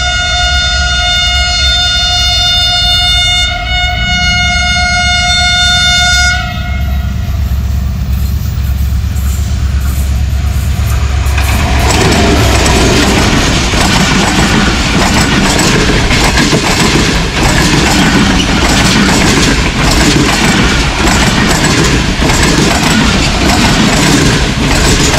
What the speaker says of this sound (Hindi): Sir Syed express 35 up Karachi से निकल के रावलपिंडी के लिए अप्रोच कर रही है, थ्रू पास है और ओवरटेक कर रही है बहाउद्दीन ज़करिया एक्सप्रेस को।